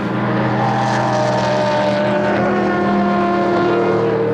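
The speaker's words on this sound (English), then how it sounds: "Zumbrink with great speed out of Strubben and 200 horsepower more than the Radical goes by on the Feinslang for second place" A GT race car roars at speed around the Assen circuit during a Supercar Challenge round, its engine a loud, continuous high-revving drone that holds steady for the whole stretch.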